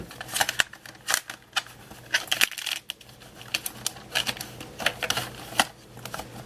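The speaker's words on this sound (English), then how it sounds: "I'll use my trimmer." A paper trimmer slices through craft vinyl in a run of quick, crisp cutting strokes and sharp clicks, close and fairly loud, with brief pauses between passes and no talking.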